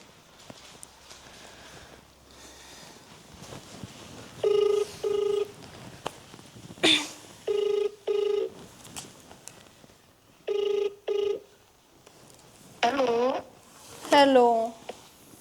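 Telephone ringtone in a Haryanvi village family drama, sounding as repeated paired electronic chirps at a steady rhythm with short gaps between, clear and fairly loud over a quiet room background.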